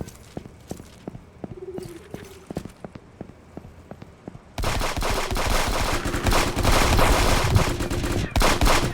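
Rapid bursts of dual-wielded gunfire in a shooting video game, scattered sharp shots at first, then a dense, loud continuous barrage for the last half, with no talk over it.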